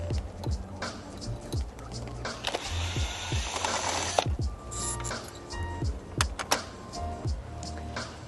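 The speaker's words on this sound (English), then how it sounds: "we're going to be unscrewing the awning barrel from the awning arm" Tools work on an awning, unscrewing the awning barrel from the awning arm with a run of close, uneven clicks, squeaks and ratcheting taps.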